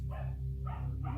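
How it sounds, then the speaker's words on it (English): An anxious neighbourhood dog barks a few times, faint and somewhat distant, with short yelping bursts over a quiet background. "my neighbor has a very anxious pup who continually barks"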